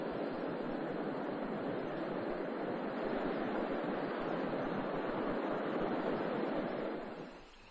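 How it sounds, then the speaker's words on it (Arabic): Rushing river rapids pour over narrow rocky stretches of a river in a crocodile habitat, a dense, steady roar of churning water that holds throughout and fades slightly at the very end. "الأماكن الصخرية الضيقة في النهر تتحول إلى منحدرات من الماء الهائج"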